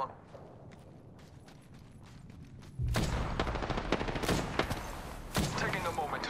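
Apex Legends gunfire crackles in rapid bursts and fusillades after a quieter start, with game effects layered in and no clear talk.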